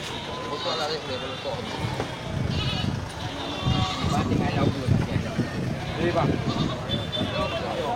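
Female goats bleat at a village livestock sale, repeated wavering calls rising over a busy, murmuring background of voices and low rumble, fairly close and continuous.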